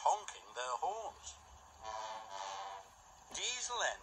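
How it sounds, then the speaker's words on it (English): Two diesel engines from Thomas and Friends, Arry and Bert, honk their horns in short, sharp, two-tone blasts that bracket a sustained steady honk, close and loud in an otherwise quiet scene. "it was Ari and Bert honking their horns"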